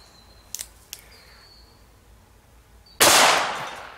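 A gunshot fired at an aluminum or steel armor plate: a couple of faint clicks, then one sudden loud blast with a ringing, slowly decaying tail outdoors.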